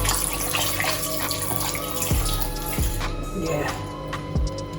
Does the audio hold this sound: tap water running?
yes